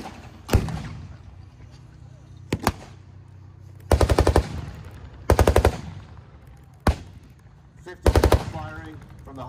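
DShK heavy machine gun fired at a T-54 tank during a museum battle show, with six short, loud bursts of rapid shots separated by pauses and quiet talk in between.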